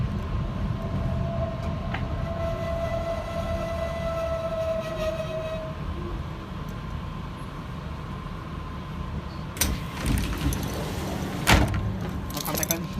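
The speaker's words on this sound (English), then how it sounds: "you film me open up the train doors" Train doors on an H set commuter train open at a station platform, with a steady low rumble of the idling train, a held chime tone, then clunks and a louder mechanical thump as the doors slide open.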